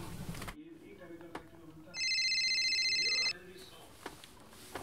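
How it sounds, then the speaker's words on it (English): A telephone rings with an incoming call, one electronic ring burst lasting over a second in the middle of a short stretch of speech and room sound. "Oh, I'm calling you right now."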